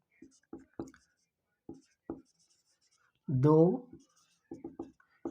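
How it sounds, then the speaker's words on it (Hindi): Marker or chalk strokes tap and scratch on a board during a physics lesson on motion, in short bursts between a teacher's spoken words. "तो यहाँ पर हम लिखते हैं"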